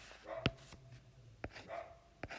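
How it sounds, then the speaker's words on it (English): A pet dog barks in short, sharp bursts indoors, one loud bark followed by a few fainter ones spaced apart, heard close by with no talking over it. "My dog is barking like crazy."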